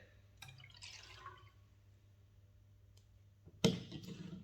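Acid poured into alkali for a school neutralisation practical, a faint trickling pour early on, then quiet, then a sharp glassy clunk and brief liquid splash near the end.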